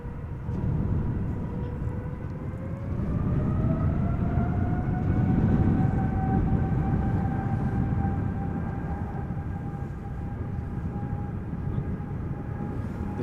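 Qatar Cargo Boeing 777 freighter departing Amsterdam Schiphol, a broad jet roar with a rising engine whine that swells to a peak midway and then holds steady at moderate distance.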